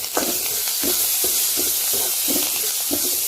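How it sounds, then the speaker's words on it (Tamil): Curry leaves sizzle and crackle in hot oil in a pan for a traditional Pongal festival mixed-vegetable kootu, a steady close hiss broken by regular bursts of spitting as they are stirred. "அந்த சூட்லேயே கொஞ்சம் கருவேப்பிலை போடணும். அதை அப்படியே வறுத்து"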